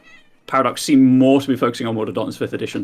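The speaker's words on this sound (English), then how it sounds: "Sorry about the cat." A cat meows loudly and drawn-out close by, then keeps mewing while someone talks over it indoors.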